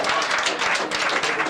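A crowd clapping on a lively talk programme, a dense, loud burst of applause from many hands, filling the short stretch continuously.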